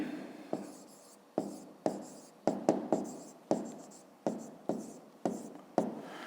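Pen strokes on paper while working a grade 5 maths triangle exercise, a series of about a dozen short scratchy bursts in an uneven rhythm, close and fairly quiet, with no talking.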